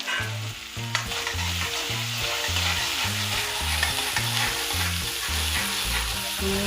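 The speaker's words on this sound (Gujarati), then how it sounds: "ધીમાં આપણે થોડી વાર એને સાંતળીશું" Onions sizzle and fry in a pan for dal fry, stirred in a steady rhythmic pattern with a continuous close crackle and no talking.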